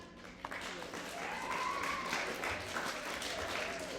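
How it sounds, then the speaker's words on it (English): A class of fifth graders claps and cheers, a sustained, even wash of applause at moderate level with a few voices rising through it. "Can we cheer for that?"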